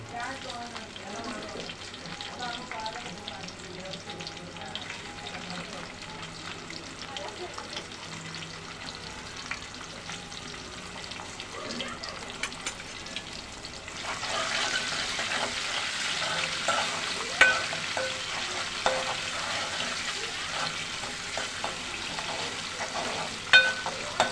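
Garlic, cumin, mustard seeds, tomato and chilli fry in a pan for moong dal varan while being stirred. A steady close sizzle runs throughout and grows louder and brighter partway through, with scraping stirs over it.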